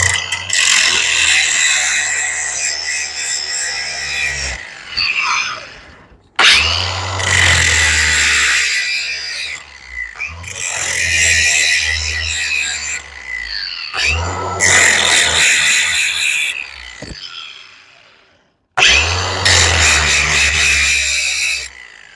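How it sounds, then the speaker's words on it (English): Loud angle grinder bursts grinding down a part from a vintage 1971 Moto Guzzi Ambassador police motorcycle, five long harsh passes of several seconds each separated by short pauses as the tool spins down. "now I'm going to grind this thing down"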